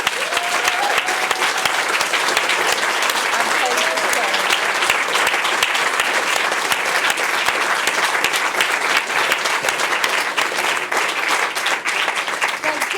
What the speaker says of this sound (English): please give a round of applause to all our tellers tonight, and for Mike particularly.